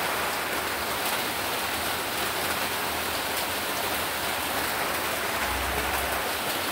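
Steady, dense rain falling continuously, a broad hiss of drops on surfaces with no pauses and no voices.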